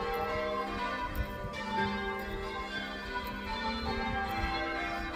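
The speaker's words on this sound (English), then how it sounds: "Got the old bell ringers out for me." Church bells peal continuously outdoors along a Peak District ultra challenge route, overlapping tolls ringing in steady changes, moderately loud and sustained with no voices.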